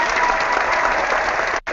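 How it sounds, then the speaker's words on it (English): Audience applause following a talk, a steady, loud burst of clapping that cuts off abruptly near the end. "I didn't want to clap in the middle, so I'll just give it to you now."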